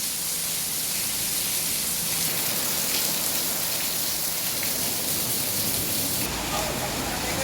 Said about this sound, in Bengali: দেখতেছেন বৃষ্টির পানি কীভাবে ফুটতে আছে এই যে দেখেন বৃষ্টির পানি